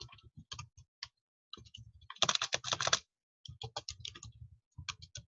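Computer keyboard typing in quick, irregular bursts of clicks with short pauses, one denser flurry in the middle, close and fairly quiet with no voices.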